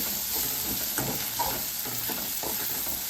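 Hot oil sizzles steadily while a utensil stirs and scrapes the pan in a few irregular strokes.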